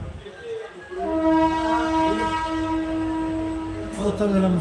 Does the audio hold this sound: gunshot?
no